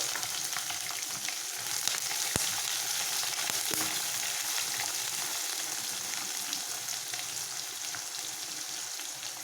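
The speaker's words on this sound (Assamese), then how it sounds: "এতিয়া পিঁয়াজখিনি প্ৰায় সোণোৱালী বৰণ ধৰালৈকে আমি ভালদৰে ভাজি ল'ম।" Onions fry in a pan for masala fried rice, a steady dense sizzle and crackle with occasional stirring clicks, moderately quiet and continuous throughout.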